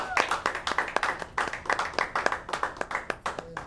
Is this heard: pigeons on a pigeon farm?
no